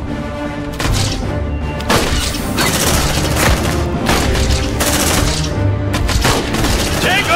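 Loud, dense gunfire from the video game Aliens: Dark Descent, with rapid automatic bursts and heavy booming blasts nearly nonstop, close, and voices shouting amid the shooting.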